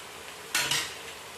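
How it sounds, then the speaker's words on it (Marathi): Raw fennel seeds stirred in a pan for a chili-spiced poha chivda: one short, bright rattling scrape, alone and close, fading quickly into quiet. "कच्ची बडीशॉप घ्यायची छानपैकी असे हलवून घ्यायचे ते सगळं"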